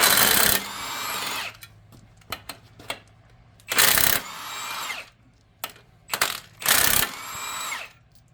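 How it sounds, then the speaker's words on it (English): An impact wrench removing engine bolts during a 6.0 Power Stroke diesel teardown: loud rattling bursts of about a second each, repeated four times with quieter clicks and clanks between them. "Do it with an impact. If you use a ratchet, you'll never get these bolts out."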